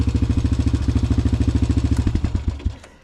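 A Honda Recon 250 ATV engine runs loud and close with a fast, even single-cylinder putter, then slows and sputters to a stop near the end.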